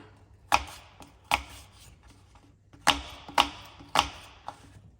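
A knife chops a shiny red apple on a cutting board with several sharp, distinct cuts. The strokes are close and fairly quiet, spaced irregularly with short pauses between them.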